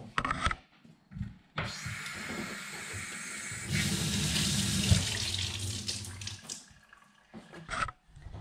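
Water runs from a household tap into a sink during washing, a steady splashing rush that swells louder midway, with quieter gaps and clatter before and after.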